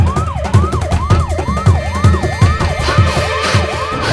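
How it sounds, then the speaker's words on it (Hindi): An ambulance siren wails loud and close in a fast, regular up-and-down sweep, repeating about twice a second throughout. "मुंशी जी, एम्बुलेंस का फोन लगा।"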